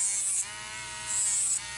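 A Dremel rotary tool used on callused skin in a foot care office whines at a high pitch, running in two loud bursts with a quieter, lower hum between them.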